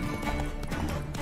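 Horse hooves clip-clop rapidly and loudly during mounted combat in the video game The Witcher 3, a dense rumbling gallop with no pauses.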